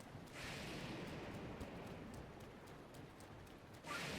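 Steady rain falling in Zelda: Breath of the Wild, a soft continuous wash of patter held at low volume across the whole stretch, with a brief brighter swell near the end.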